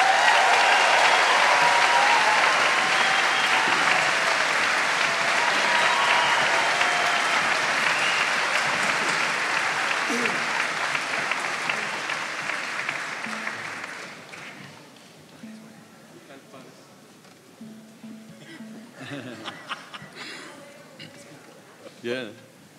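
A large concert audience gives a warm round of applause for a mariachi ensemble at a symphony event, loud and sustained for about fourteen seconds before fading into scattered claps and murmuring voices.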